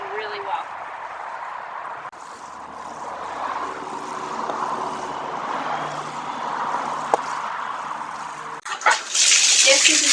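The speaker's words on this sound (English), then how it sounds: "I'm going to water these in really well." Water streams steadily from a hose or can onto newly planted ranunculus and anemone corms, a continuous rushing splash that is close and fairly loud, ending in a brief louder spray.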